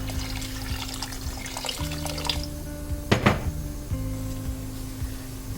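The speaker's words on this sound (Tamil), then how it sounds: "அந்த காய்கள் கூடயே சேர்த்து ஆட் பண்ணிட்டு தேவையான அளவு தண்ணி ஊற்றிக்கலாம்." Water is poured into a pot of cooking vegetables with coriander in a home kitchen, a brief gushing splash in the middle over a steady stove-like hum, with a few faint clinks around it.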